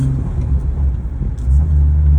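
A supercharged 1996 Acura NSX-T on the road, its engine a close, steady low rumble that swells slightly toward the end, with no voices over it.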